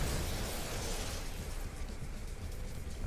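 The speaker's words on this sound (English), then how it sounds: "I'm shooting you." Weapon fire in No Man's Sky: a dense, continuous roaring blast of noise that holds steady and loud, then slowly thins, with no talking.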